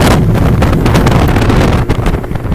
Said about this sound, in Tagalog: The wind is coming from the right side.